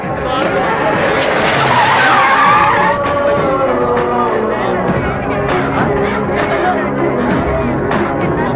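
A speeding car's tyres squeal and skid loudly in a film chase scene, a long screech swelling and fading before engine roar and rattling impacts carry on, with a voice briefly heard over the noise.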